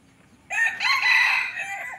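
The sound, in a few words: red junglefowl rooster crowing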